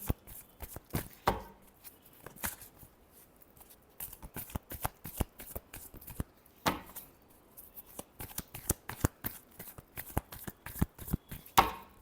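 Tarot cards being shuffled by hand in a quick run of sharp riffling snaps and slaps, bursts repeating with short pauses, close and crisp with no talk.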